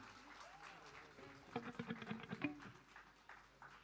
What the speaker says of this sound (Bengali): নীলাংশুকের জন্য হাততালি